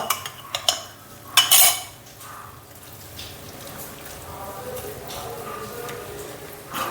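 Curd being added and stirred into a curry pan for bitter gourd pachadi, heard as a few sharp metallic spoon clinks against the pan early on, followed by quieter scraping and soft clatter, with no talking.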